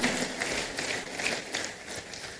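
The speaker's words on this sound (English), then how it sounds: "Please can we applaud him?" Audience applauding the Registrar and Secretary to the Governing Council at a university lecture gathering, a dense, steady wash of many hands clapping at moderate distance, filling the whole moment without pause.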